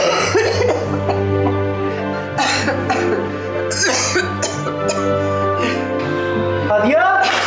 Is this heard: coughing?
yes